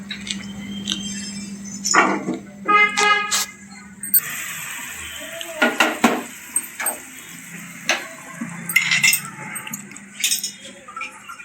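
Metal pots and utensils clanking and clinking while washed rice goes into a pot, sharp irregular knocks and rattles up close, with some background noise and occasional talk.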